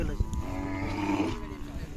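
A bull at the Kole fair cattle market in Sangola, Solapur lets out a long, deep, low moo, close by, over faint background murmur.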